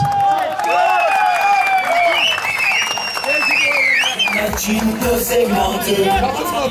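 At a bull wrestling event, an outdoor crowd claps and cheers for guests beneath an announcer speaking loudly over a PA, the applause a steady rolling wash throughout.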